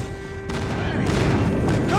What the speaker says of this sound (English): Predator missile inbound. Friendly airstrike incoming.